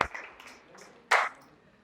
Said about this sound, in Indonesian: beri aplaus ke tim yang maju